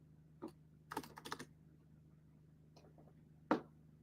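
Typing on a computer keyboard, a few short bursts of key clicks separated by pauses over a steady low hum, close and fairly quiet.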